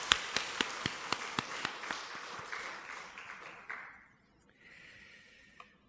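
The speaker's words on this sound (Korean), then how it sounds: "이 시간 함께 힘차게 박수로 응원해 드리겠습니다" A church congregation gives a burst of rhythmic applause, sharp claps at a steady beat that swell into a crowd wash and then fade out into a quieter room tone.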